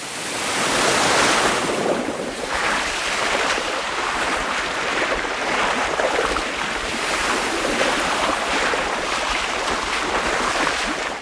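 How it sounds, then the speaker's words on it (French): In the animated film Flow, water recedes with a broad, rushing wash like surf, accompanied by wind; the sound is continuous and fairly loud, swelling and ebbing gently. "La séquence commence avec le son de l'eau qui s'en va."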